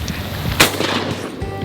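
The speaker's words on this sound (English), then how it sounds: "He's gonna shoot the lure." A single sharp gunshot fired at a fishing lure tossed into the air outdoors, one loud crack standing out clearly with no talk over it.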